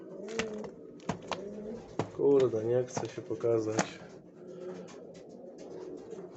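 An aviary-bred breeding pigeon coos in a few soft, rolling bursts near the middle, close by, amid shuffling and tapping while someone talks.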